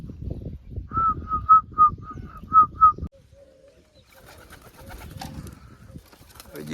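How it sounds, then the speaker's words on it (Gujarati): A pigeon cooing close by, a run of about eight soft, evenly spaced coos, followed by quieter rustling and faint background noise. "આ કબૂતર બેઠું છે આગળ આવશે"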